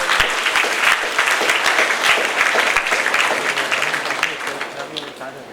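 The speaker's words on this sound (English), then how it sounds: "Let us give him a very big round of applause." An audience of MBBS students at a motivational class claps in sustained, dense applause, loud and close, holding steady for several seconds before tapering slightly at the end.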